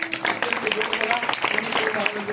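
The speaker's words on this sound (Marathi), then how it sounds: "एकदा त्यांच्याकरता जोरात टाळ्या वाजवा." Scattered clapping from a kirtan audience mixes with a voice and sustained tonal notes, the applause rising and falling beneath the ongoing sound.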